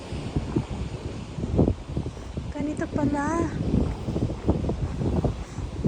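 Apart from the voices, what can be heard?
ocean waves on rocky shore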